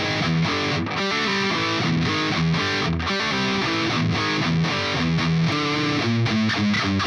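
Distorted electric guitar playing the pre-chorus riff of a song, chugging heavy chords in a driving repeated rhythm, loud and close with no talking.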